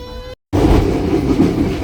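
Steady, loud rumble and rail clatter heard from inside a moving passenger train, the Penataran service between Malang Kota Lama and Kertosono, cut by a brief total dropout before the noise resumes.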